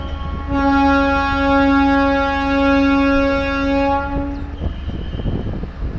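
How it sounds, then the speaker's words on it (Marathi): A loud, sustained train horn blares for about four seconds at Banihal station in Kashmir, then cuts off, leaving rail and station rumble. "थोड्याच वेळात ट्रेन देखील आता सुरू होणार आहे, हॉर्नची वाट बघूया"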